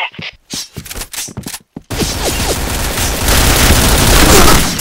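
In the shooter game Point Blank, a thrown grenade goes off after a burst of rapid gunfire. A loud, sustained blast and rumble follow and fill the rest of the clip.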